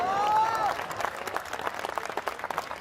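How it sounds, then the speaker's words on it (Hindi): Audience applause at a Hindi comedy poetry gathering, a dense crowd clatter lasting the whole clip, fairly faint, with a short tonal sweep near the start. "ये बहुत अच्छी पंक्ति थी, इस पर तालियां कम बजी हैं आपकी।"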